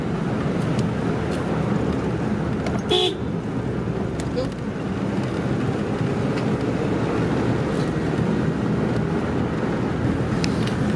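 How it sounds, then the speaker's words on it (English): A small car's horn gives one brief, sharp toot midway through, heard from inside the vehicle over steady road and engine noise on a country drive in Somerset. "Good horn in this little car."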